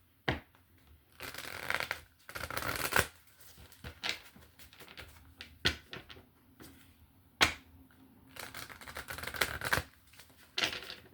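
Quick riffling bursts of a tarot deck being shuffled, repeated several times with crisp snaps and short pauses in between, close and clear with no talking.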